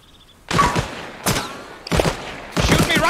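Bursts of rapid gunfire ring out in ARMA Reforger combat, four separate loud volleys with short pauses between them, sharp and close.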